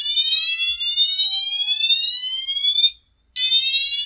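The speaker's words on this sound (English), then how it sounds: "That's our fire alarm." A room fire alarm blares loud and close, a continuous high-pitched electronic tone that cuts out briefly for a moment before resuming at full volume.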